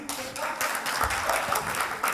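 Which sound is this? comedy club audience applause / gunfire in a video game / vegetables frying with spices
comedy club audience applause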